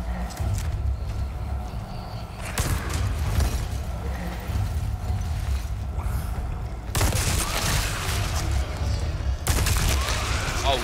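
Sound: submachine gun fire in the video game Resident Evil 4

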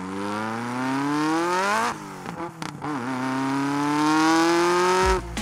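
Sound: car engine revving, recorded near the exhaust

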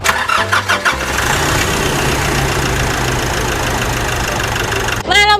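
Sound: Nissan Navara 2.5 engine starting and idling

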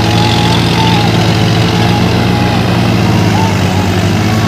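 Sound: Massey Ferguson 7250 tractor engine running with a 7-foot leveller

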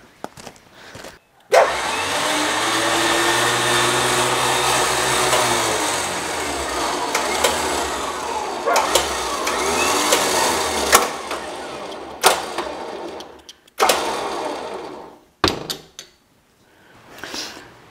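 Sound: truck engine running after complete rebuild

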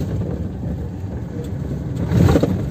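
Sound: convoy of semi-trailer trucks on highway

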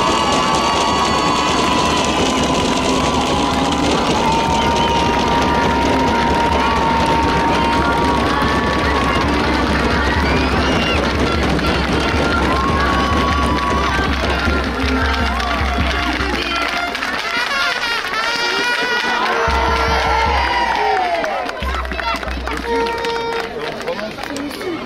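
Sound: audience applause and cheering for champions

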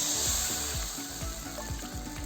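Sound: water poured into hot frying pan, sizzling

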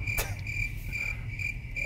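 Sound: cricket chirping sound effect

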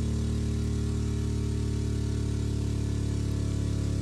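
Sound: steam engine running in a video game simulator

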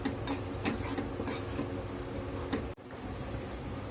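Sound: stirring flour being roasted in a kadhai

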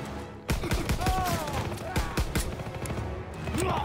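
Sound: machine gun fire in the video game Call of Duty: WWII

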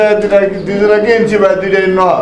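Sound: pigeons cooing

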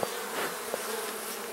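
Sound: honey bees buzzing around an opened hive

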